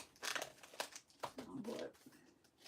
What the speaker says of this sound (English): take this, get my envelopes